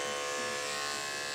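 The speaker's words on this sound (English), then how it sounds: "I'm going to shave all that out." Electric clippers shave a Maltese dog's fur, giving a steady, close electric buzz that holds without a break.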